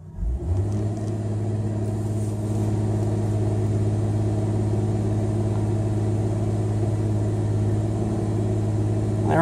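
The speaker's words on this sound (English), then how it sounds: "Accelerator right down to the floor." A Ford car with a DSI M93LE four-speed automatic transmission, an intermittent delay in reverse, held in reverse on the brake with the accelerator floored: the engine starts and settles into a loud, steady, droning high-rev roar.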